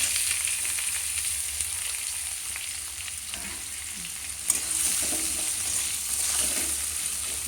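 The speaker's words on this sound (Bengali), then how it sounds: "এবার মিডিয়াম আঁচে গ্যাসটাকে রেখে পেঁয়াজটাকে ভেজে নিতে হবে" Chopped onions frying over medium heat in oil with whole spices for a mutton and potato curry, giving a steady close sizzle with occasional stirring scrapes and one sharp clack midway; no talking.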